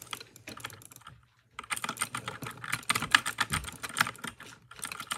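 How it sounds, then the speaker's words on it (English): Fast, dense keyboard typing clatters loudly and close, pausing briefly near the start before resuming in a steady rapid stream. "Bro, it's so loud."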